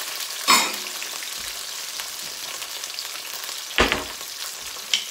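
Tomatoes hit a hot pan with wine-soaked sausage, sending up soft, steady frying and sizzling, punctuated by a few sharper bursts as food is added and stirred.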